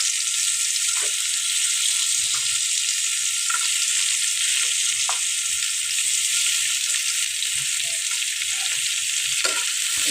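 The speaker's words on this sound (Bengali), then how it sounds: "আলুগুলো একটু ভেজে নেবো হালকাভাবে" Steady, dense frying sizzle of potatoes in hot oil, close and continuous, with a few soft knocks of a utensil against the pan.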